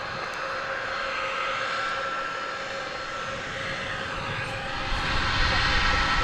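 An 18-year-old Airbus A300 jet at DFW Airport gives a steady, broad engine roar at a distance, swelling slightly louder toward the end, with no talking.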